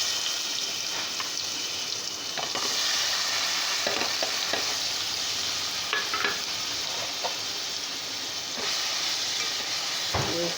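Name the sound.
stirring curry frying in a pan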